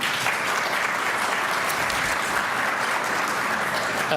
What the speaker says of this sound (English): one more round of applause for Lauren